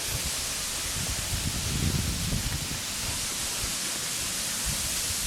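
A small waterfall at Beauchief Abbey in Sheffield makes a steady, broad rushing wash of falling water that fills the whole scene with no voices.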